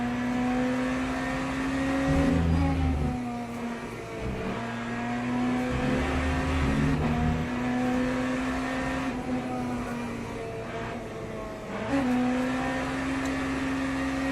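A BMW race car in Le Mans Ultimate at Fuji, its engine droning loud and close. The note climbs through gears, drops on each shift and pulls back up in a repeating pattern.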